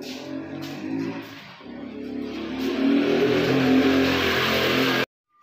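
A motorbike engine revs up close, a rising mid-pitched growl that builds and holds loudly before cutting off abruptly near the end.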